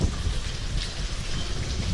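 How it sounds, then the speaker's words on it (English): Strong gale-force wind buffets a GoPro microphone inside a roofless abandoned bakery factory in heavy rain, a continuous loud low rumble with no speech. "It's blowing a gale in here."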